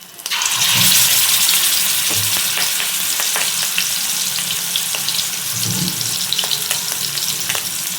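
Fish frying in a pan gives a loud, steady sizzle that runs throughout, with occasional faint clinks and splashes of water nearby and no one speaking.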